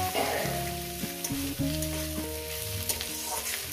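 Rohu fish belly pieces hitting hot oil in a pan, a loud close sizzle and crackle with steady frying hiss and a few sharp spattering pops throughout.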